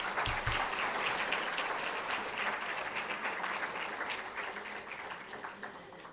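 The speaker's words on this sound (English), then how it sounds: "Everyone, please give a huge round of applause to all our winners." Crowd at a World Space Week 2022 prize distribution ceremony applauding the winners, dense sustained clapping from many hands at a steady level, gradually thinning toward the end.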